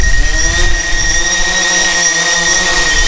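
A DJI Phantom 4 quadcopter drone spins up and lifts off nearby in light wind, its rotors giving a loud, steady high-pitched whine with a rough low rumble underneath.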